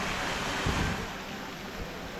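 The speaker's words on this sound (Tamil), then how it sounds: "ஸோ வாட்டர் ஃபவுண்டைன் பாருங்கள் எவ்வளோ அழகாக இருக்குது பாருங்கள்" Steady splashing rush of water falling from a round fountain at a temple in Kanchipuram, close and constant with a soft broadband hiss and no talking.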